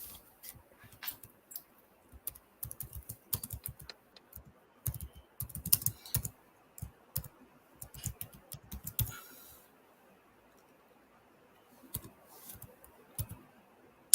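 Keys clatter on a computer keyboard in quick irregular bursts with short pauses, close and fairly quiet, with no voices.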